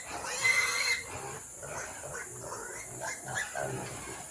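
A pig grunting and oinking in a short, uneven series of soft, fairly faint calls, close by with some low background noise.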